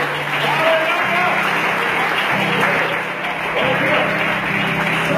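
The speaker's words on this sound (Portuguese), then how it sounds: "Aplauda o Senhor." A church congregation claps in a full, steady round of applause over low sustained musical tones, with voices mixed in throughout.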